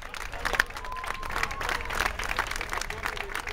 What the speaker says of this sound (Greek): Ένα ζεστό, ένα θερμό χειροκρότημα.